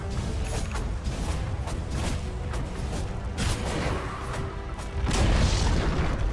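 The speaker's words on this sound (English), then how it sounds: "Dire's middle tower has fallen." A Dota 2 tower being destroyed: a series of heavy booms and crashing impacts over a steady rumble of battle noise, ending in a louder, fuller blast.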